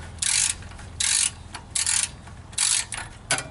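A ratchet fitted with a 7/16 deep impact socket and extension loosens a bolt on a 1996 Jeep Grand Cherokee, giving five bursts of rapid clicking, each about a quarter to half second long, separated by short pauses, close and fairly loud.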